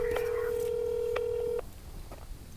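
Telephone tones ringing out while calling a cell phone, a single sustained beep broken by small clicks and then ending, over a faint low background hum.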